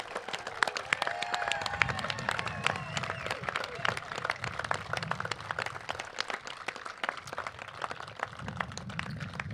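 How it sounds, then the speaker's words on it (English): An audience at a Navy officer commissioning ceremony applauds with sustained, dense clapping that stays loud and steady throughout, mixed with crowd murmur and a few cheers. "Please join me in a round of applause for the United States Navy's newest commissioned officers."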